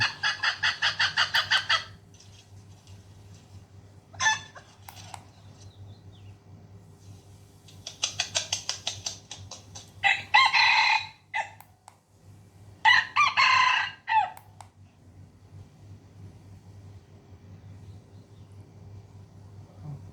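Recorded rooster crows and hen clucks play through a remote-controlled loudspeaker used as a bird and chicken lure, in repeated bursts separated by short pauses over a low background hum.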